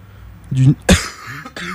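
A single sharp cough bursts out close by, framed by brief throat noises and vocal sounds just before and after.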